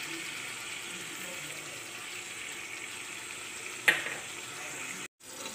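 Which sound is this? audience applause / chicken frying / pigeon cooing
chicken frying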